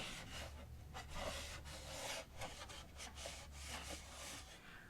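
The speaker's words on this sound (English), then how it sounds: "take a clean, damp cloth and wipe the instrument down, getting rid of all the soapy residue" A damp cloth wiping down a violin to clear soapy residue makes a soft, continuous close-up rubbing and swishing, with gentle strokes rising and falling, faint, with no talk.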